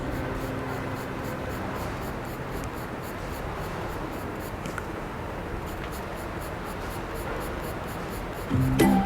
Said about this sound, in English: to create the lighter shades on the roof, I will use a 4B pencil